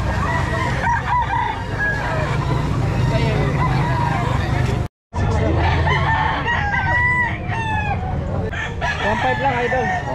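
A Boston Crab gamefowl rooster crows loudly and repeatedly close by among other chickens clucking, while people talk and chatter in the background; the sound cuts out briefly midway.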